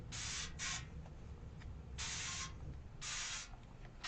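A spray bottle hisses in quick bursts: two short sprays, then a pause and two longer ones, close and crisp.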